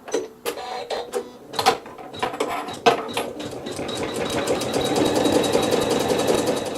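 Sewing machine stitching quilting through a fabric block: irregular starting thumps give way to a steady, rapid mechanical whir of stitches that builds and holds, close by with no talking.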